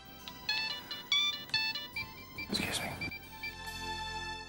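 A mobile phone ringtone plays a series of bright melodic electronic tones in short repeated bursts, close and clear, broken by a brief rustling noise partway through.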